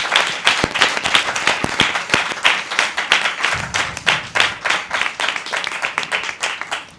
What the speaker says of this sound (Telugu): జస్ట్ ఒకసారి క్లాప్స్ కొట్టి గాడ్ మహిమపరచు